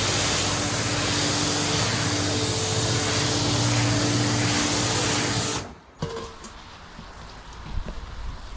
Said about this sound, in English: I'm going to hose it down with water first